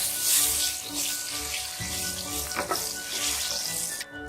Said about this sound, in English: some whole red chilies, break them while adding, some whole black peppers, give them a stir